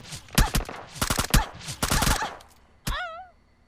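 Rapid bursts of Vector submachine gun fire in PUBG Mobile, several sharp clustered volleys over about two seconds, followed by a single crack and a whistling ricochet-like tone trailing off.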